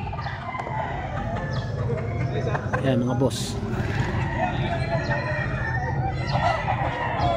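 Roosters from Liliw of Mount Banahaw bloodline crow and cluck among game fowl, a crow rising midway over steady background clucking, while someone talks throughout.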